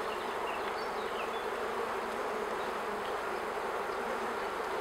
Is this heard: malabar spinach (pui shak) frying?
no